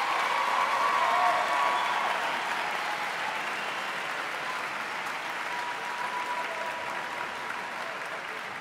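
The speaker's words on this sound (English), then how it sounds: "So once another applause for the choir." A concert audience at an all-Philadelphia high school music festival applauds the choir, a broad, steady wash of clapping that stays even and sustained throughout.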